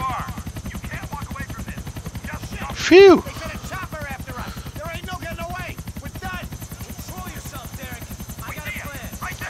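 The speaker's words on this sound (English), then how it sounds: "The chopper." Helicopter in GTA IV with a steady low rotor chop running throughout, under game speech and a loud shout near the start.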